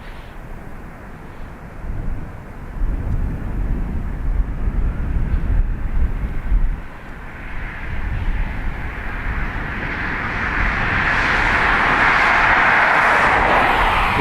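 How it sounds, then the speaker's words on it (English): An Aer Lingus jet departing Dublin Airport bound for Zurich, its engine roar building into a broad, rising rumble with a hissing whine that swells toward the end, heard from a hillside near the airfield with no talking. "This Aer Lingus is off to Zurich."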